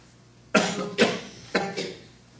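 Several coughs break out in a quiet room during a town board meeting, two close together, then another pair a moment later, fairly near and distinct.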